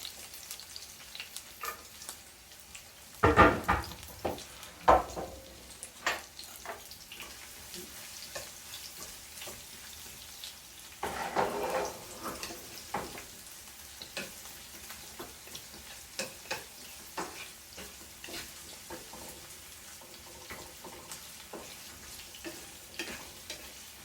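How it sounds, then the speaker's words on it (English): Onion, ginger, garlic and spices go into a pan of oil for chana masala and start frying, with a steady sizzle, sharp crackles and stirring scrapes, the loudest bursts early as the ingredients hit the oil. "Add our onion, ginger, garlic,"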